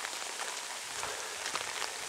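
Steady rain falls outdoors near a hillside shrine on a wet, muddy day, a dense even hiss of drops on surfaces lasting throughout at moderate loudness.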